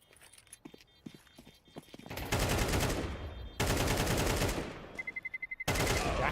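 Counter-Strike gunfire, with scattered single shots at first and then long, dense bursts of rapid automatic fire that break off and resume, loud and close, mixed with game effects.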